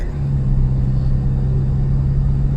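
Pickup truck with an upgraded stock turbo, size 44, on a test drive: a steady close engine drone and road rumble with a constant low hum, holding even loudness throughout with no voices.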